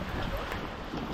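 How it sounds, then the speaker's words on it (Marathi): A sudden storm in a village near Khed, with strong wind and heavy rain making a steady, close roar that buffets the microphone throughout, with no voices. "हा जोरात वादळ वारा आलाय आणि मग पाऊस चालू झालाय"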